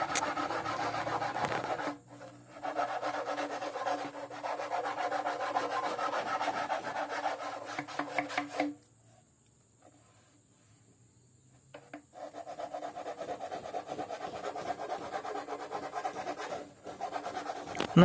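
Sandpaper rubs and rasps steadily against a kite part, the wooden frame piece of a dandang kite. Long bursts of close, scratchy strokes are broken by a quiet pause before the sanding resumes.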